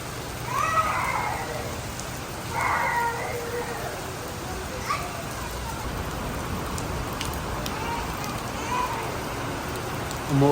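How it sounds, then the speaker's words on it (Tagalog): Steady rain falling at an outdoor Chinese New Year celebration, a dense continuous hiss of drops over a noisy crowd, with occasional higher calls and voices rising through it. "Umuulan na po"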